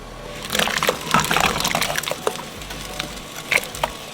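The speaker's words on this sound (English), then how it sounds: "and then we're gonna add our potatoes in." Cut potatoes tumbling into a pot of salted water, with several irregular splashes and knocks spread over a few seconds, close and fairly loud, no talk.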